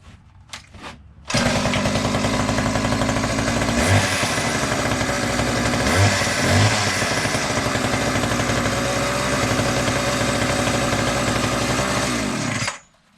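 A small two-stroke edge trimmer engine starts after a fuel line replacement and runs loud and steady at idle with no choke or throttle for about eleven seconds, then cuts out abruptly; brief handling noises come before it.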